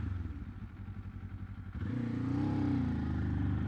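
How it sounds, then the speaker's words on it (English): A 2024 Kawasaki Z500 motorcycle pulling away in second gear, a steady close idle rising into a louder, smoother engine drone as it accelerates, with no speech. "sometimes I even start the bike in second gear"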